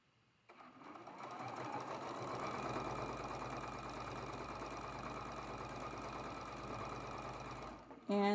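A sewing machine stitches a quilt block seam, running steadily for several seconds with a continuous mechanical whir and rapid stitching rhythm, stopping abruptly near the end.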